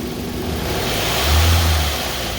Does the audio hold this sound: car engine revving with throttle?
yes